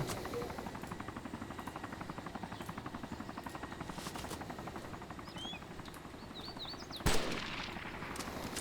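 Rapid, rhythmic helicopter rotor chopping in Arma 2 DayZ Mod runs steadily throughout, with a sharp bang near the end; fairly faint overall, like game audio.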